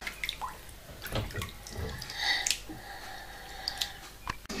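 Water runs from a tap into a shower or bath for children at home, a soft continuous splashing with occasional drips and clinks, fairly quiet and close.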